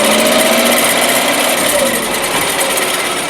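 A 2003 Nissan Frontier pickup with a 2.4L engine and a newly replaced clutch runs steadily while it is shifted through the gears, giving a loud continuous engine drone with a faint rubbing whine and a voice speaking briefly.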